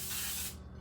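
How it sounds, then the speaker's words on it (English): Cooking spray hisses into a clean, dry Le Creuset 9x13 baking pan in a single steady burst of about half a second that then tails off, close and alone. "we're going to take this and we're going to spray it"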